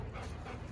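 A dog pants steadily and close by, a continuous breathy rhythm filling the short moment with no talking.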